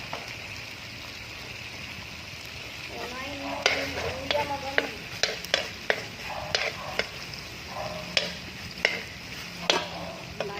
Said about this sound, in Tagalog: Lumabas na ang mantika. Dito ko na siya igisa.